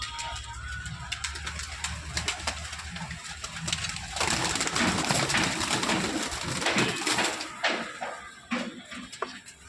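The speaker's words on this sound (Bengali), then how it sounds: "কবুতরগুলা উড়াউড়ি করতেছে" Pigeons flutter around a rooftop garden. Flapping and fluttering bursts swell in the second half, then ease off, with soft cooing mixed in and no talking.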